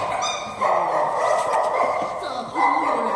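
Dogs at a stray animal rescue barking and yipping close by in a dense, overlapping chorus, with a brief dip before the barking swells again, amid human voices.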